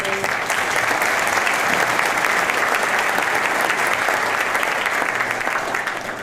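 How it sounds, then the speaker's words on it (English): Steady, loud applause from an audience at a State of the County address, sustained for several seconds with no break before fading slightly at the end. "We have a round of applause for the judge."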